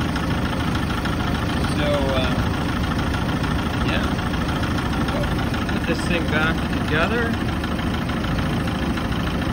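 A Mercruiser Alpha One Gen 1 boat engine idles around 900 rpm while running in a bucket, a loud, steady low rumble with faint chirps above it, and someone speaks briefly over the noise.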